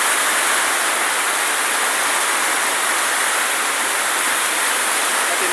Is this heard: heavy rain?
yes